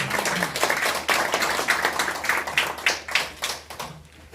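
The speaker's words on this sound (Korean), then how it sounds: "큰 감사의 박수를 드리겠습니다." Applause from the audience at a Korean world mission solidarity forum, a steady patter of clapping with some sharper claps standing out, fairly close and continuous, tapering toward the end.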